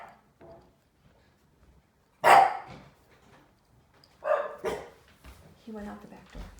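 A dog locked in a house barks a few times, loud and close, in short separate bursts, with quiet gaps and a little background sound between them.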